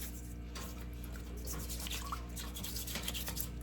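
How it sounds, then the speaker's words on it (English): A brand new toothbrush scrubs crabs clean for a seafood broil. Soft, close bristle scratching and wet dabbing strokes repeat steadily over a low hum, with no talk. "get a toothbrush, a brand new toothbrush, and you save it and put it up for this process of cleaning"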